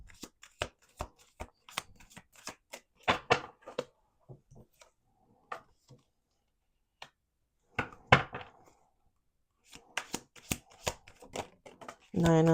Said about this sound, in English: This is going to be the last shuffle.